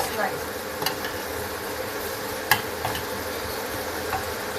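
Potato bhaji made with turmeric is stirred in a pan over a faint steady sizzle, with a few light scraping knocks of the spoon against the pan spread across the stretch.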